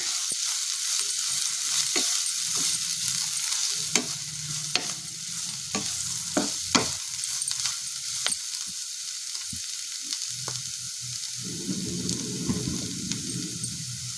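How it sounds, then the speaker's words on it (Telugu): Garam masala and red chilli powder being stirred into cabbage rice in a pan, a steady close sizzle broken by repeated scrapes and clinks of a spoon against the pan, with no talking. "తర్వాత garam masala red chilli powder వేసుకొని మిక్స్ చేసుకోవాలి"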